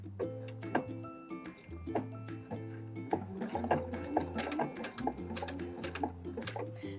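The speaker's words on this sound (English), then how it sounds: "I'm gonna remove a pin so I'm not sewing into the pins." A home sewing machine stitches slowly around a hole in delicate torn lace on clothing, running in short stop-start bursts with soft ticking and handling clicks. It sounds close and fairly quiet, with no talking.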